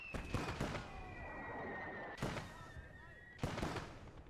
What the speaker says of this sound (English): Why are my mortars firing smoke rounds?